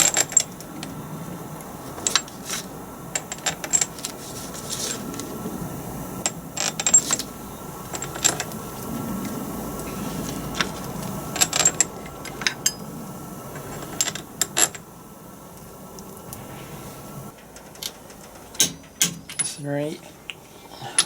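Bolts being fitted and tightened on a Land Rover Defender TD5 LT230 transfer box: scattered metallic clinks, taps and ratchet-like clicks in irregular bursts, close up, with low background noise and a few quieter rattles near the end.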